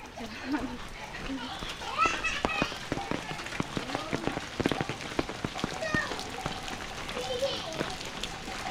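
Rain falls steadily on a rural village path where people walk to fetch water, a continuous patter with scattered drops over it and voices talking in the background.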